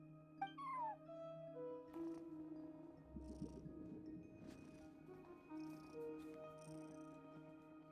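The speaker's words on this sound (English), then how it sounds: "cat watching over the front desk. Excuse... meow?" Cat at a front desk in Genshin Impact gives a short meow early on, faint against a quiet game ambience of soft tones, light chimes and a low rumble.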